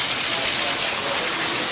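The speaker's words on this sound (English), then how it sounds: "Waterfall, ladies and gentlemen." A hotel waterfall in Denver, Colorado, rushes in a steady, loud, broadband gush of falling water with no breaks and no voices.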